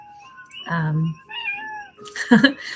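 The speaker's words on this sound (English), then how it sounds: "And you can also hear my cat who is outside the window and would like to come in now." A cat outside a window on the Big Island of Hawaii gives two drawn-out, fairly close meows, the second louder and more strained, with quiet stretches in between.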